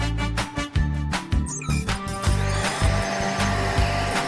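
Cartoon vacuum cleaner running loudly, a harsh, dense mechanical roar with choppy pulses and clanks early on before settling into a continuous whirring drone.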